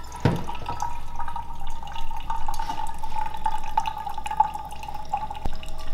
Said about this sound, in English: You want to just keep pouring until it's right about the top, and then stop, let it drip.